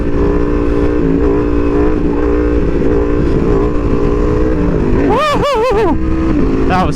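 Aprilia Tuono V4R motorcycle engine holding a loud steady drone, then revving hard in a few quick rising-and-falling bursts as the bike lifts into a wheelie, close and up front.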